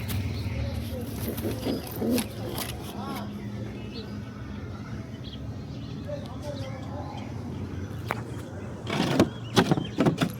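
Pairs of pigeons coo softly in a steady, low murmur with a few brighter calls, while voices talk close by and a louder bustle of movement rises near the end.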